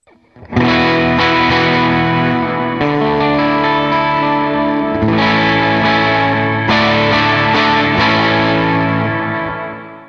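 Electric guitar through a Line 6 Helix patch with Adriatic delay and Searchlights reverb, loud distorted sustained chords changing every few seconds, with lush trailing echoes and a long reverb tail, no talking.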